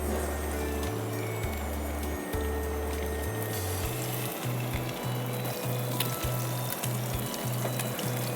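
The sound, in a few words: rohu fish frying in hot oil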